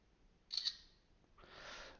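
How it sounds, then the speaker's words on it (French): LeTV One X600 smartphone camera taking a photo: a brief synthetic shutter click, then a softer hiss-like swoosh shortly after, close and quiet with no talk. "je vais prendre la petite photo"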